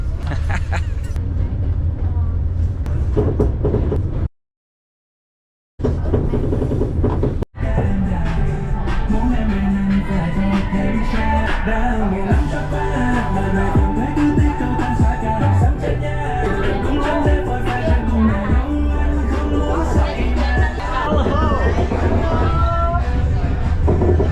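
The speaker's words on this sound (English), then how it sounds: "So the train has started." A train between Da Nang and Hue in Vietnam rumbles and rattles steadily along its tracks, with a constant low roar and a faint murmur of people in the background.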